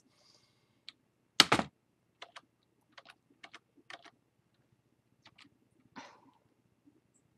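Computer keyboard keys clicking in short irregular bursts, with one louder clack near the start, during a ghost-reaping video game session in Grimm's Hollow; close, dry and alone.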